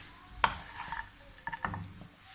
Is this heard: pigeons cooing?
no